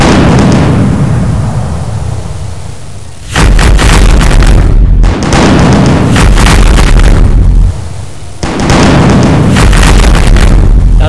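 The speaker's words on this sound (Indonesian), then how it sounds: "Seluruh meriam ditembakkan dari darat dan laut." Cannons fire from land and sea during the siege of Constantinople, heard as heavy, booming blasts with rumbling tails that come in repeated loud bursts over about ten seconds.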